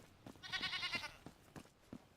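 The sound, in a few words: pet goat bleating in a video game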